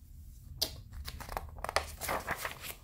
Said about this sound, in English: You turned the page!